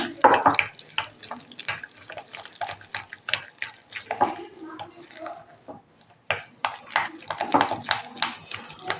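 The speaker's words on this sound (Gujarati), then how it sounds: "થોડું થોડું પાણી ઉમેરી અને આપણે બેટર તૈયાર કરી લેવાનું છે" Water runs and splashes in short bursts, close by, poured little by little into handvo batter, with brief pauses and a clatter of handling between pours.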